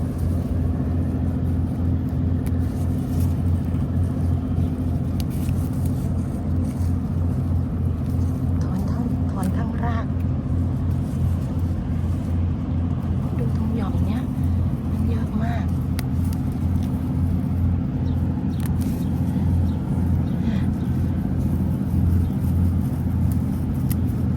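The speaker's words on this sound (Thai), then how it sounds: "นั้นมันเป็นเสียงเรือ" A boat engine drones steadily with a low, constant rumble throughout, while people talk over it.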